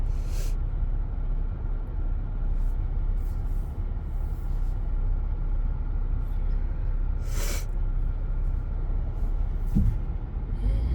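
Traffic rumbles steadily along a road, with a few cars swishing past at moderate distance and a brief hiss near the end, no talking heard.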